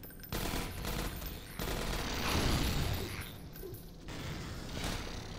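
Allied escorts in Half-Life 2: Episode One fire automatic weapons in loud, close bursts mixed with clanking mechanical noises and combat ambience, the rattle running almost continuously.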